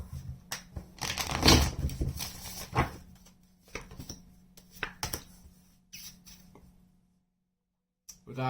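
A tarot deck being shuffled by hand, with soft papery riffles and crisp card flicks in irregular bursts that are close and quiet, fading into near silence before a last rustle.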